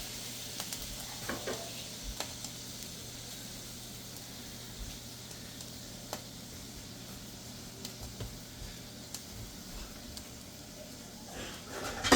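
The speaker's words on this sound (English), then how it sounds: "get ready to fry the pepper mix" A pepper mix frying for okra soup, a quiet, steady sizzle with light crackles and occasional stirring taps, close and continuous with no speech.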